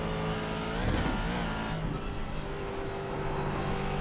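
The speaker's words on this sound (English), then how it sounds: "This is a Ford GT2, Angelo, and it's a beast." Ford GT2 race car engine roaring loud and raw out in the countryside, a steady harmonic drone with a brief pitch sweep as revs rise and fall, constant and close throughout.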